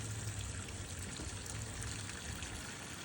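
Steady, continuous rush of water as a pump drains a duck pond during a spring cleanup, a constant trickling flow with no break and no voices.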